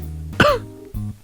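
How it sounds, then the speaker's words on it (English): A single sharp cough into a hand, close and loud, with a brief throaty rasp after it and quiet hum around it. "that was me coughing into my hand corner"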